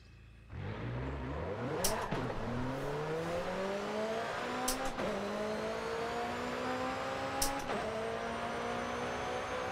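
A McLaren revs hard and accelerates through its gears in the racing game Forza Horizon 5, rising engine pitch repeatedly climbing after each shift, loud and close, with sharp clicks at shift points.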